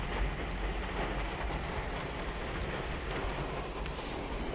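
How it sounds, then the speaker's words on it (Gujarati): Steady heavy rain pours down in Chobari village during a storm with strong wind, a dense, continuous hiss close by that stays level throughout, with no one speaking. "આ બાજુ છે વરસાદ ચાલુ"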